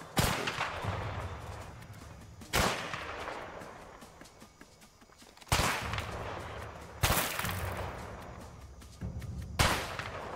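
Sniper rifle shots ring out in the video game A Way Out, four or five loud, sharp cracks spaced a few seconds apart, each followed by a long echoing decay.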